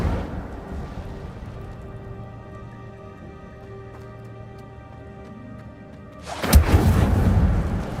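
An Incendio fire spell is cast in a Harry Potter video game: a steady, low ambient hum gives way near the end to a sudden loud booming whoosh that lingers as a roaring burst.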